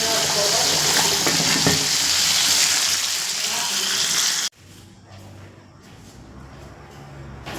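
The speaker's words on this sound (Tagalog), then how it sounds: "Kasi kumukulo pa yung kanin natin" A pot of rice boils, bubbling and hissing loudly and steadily, then the sound drops abruptly to a quieter simmer with faint clinks.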